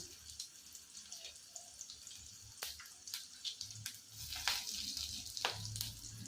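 Ginger, garlic, cinnamon, cloves and fennel seeds sizzle in about a spoonful of hot oil for a beetroot kurma, with a steady crackling fry broken by sharp pops and clinks of utensils close by.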